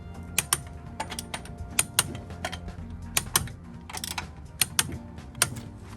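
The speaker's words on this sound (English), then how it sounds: "We're gonna get our torque wrench." Torque wrench clicking and ratcheting as wheel bolts on a 1980 Corolla are tightened to 80, a run of sharp, close mechanical clicks and ticks repeating irregularly throughout, with no talk.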